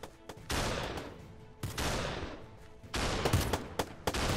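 Sustained bursts of gunfire in a heated Minecraft battlefield fight, with dense rattling volleys in three long stretches separated by brief pauses, loud and close.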